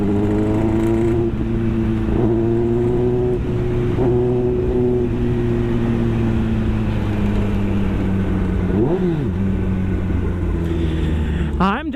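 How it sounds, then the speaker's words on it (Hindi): A 2025 Kawasaki ZX-10R 1000cc superbike with an Arrow full exhaust system idling loudly, then revved in short throttle blips with a sharp rising rev near the end, deep and close. "थोड़ा यहाँ थ्रॉटल दे के देखते हैं।"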